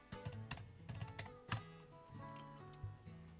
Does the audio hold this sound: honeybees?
no